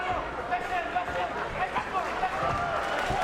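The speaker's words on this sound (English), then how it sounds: "Now the crowd really appreciating this action from both guys" Crowd at a Bellator 46 MMA fight between Marlon Sandro and Genair da Silva, a steady roar of arena noise with a commentator's voice talking over it throughout.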